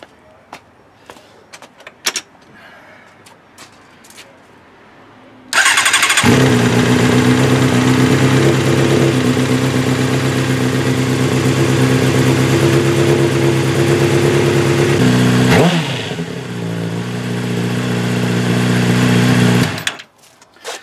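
A Honda CBR600RR motorcycle engine cranks and fires up after an oil change, then idles loudly and steadily close by with a brief blip before settling and cutting off.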